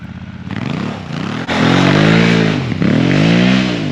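A Honda Africa Twin motorcycle engine revs hard as the throttle opens during a tight turn, rising and falling in pitch with a loud, close roar and a brief dip midway before surging again.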